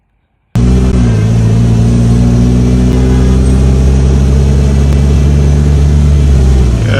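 Road traffic on a street in Benin City, Nigeria, with a loud, close motor vehicle engine droning and revving steadily after a sudden start.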